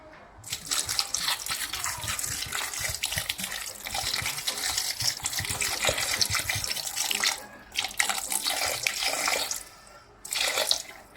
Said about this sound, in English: I add water.